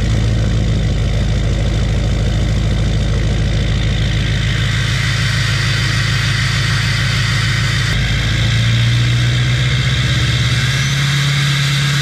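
A cold-started TDI diesel engine runs steadily for the whole stretch, a continuous low idle with a rough mechanical clatter and no voices over it. Near the end the pitch rises a little, as if it picks up slightly.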